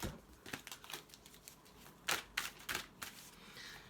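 Tarot cards being shuffled and handled, a string of crisp papery riffles and taps in irregular bursts, close and fairly quiet, with louder snaps toward the end.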